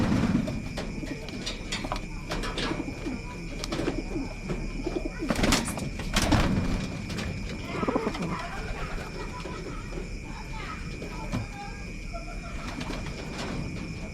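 Racing pigeons cooing in a loft, low repeated coos under a steady outdoor background hum, with occasional wing flaps and rustling and no talking.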